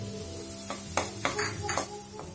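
Julienned ginger and garlic sizzle in butter in a pan, a steady close frying hiss with several sharp clinks and scrapes from a stirring utensil striking the pan at irregular intervals.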